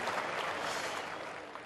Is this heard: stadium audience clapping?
yes